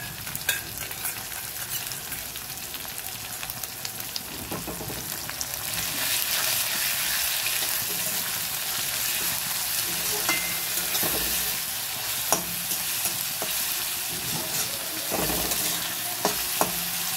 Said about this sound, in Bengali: যে রসুন বাটাটা ছিল সেটাও আমি দিয়ে দিলাম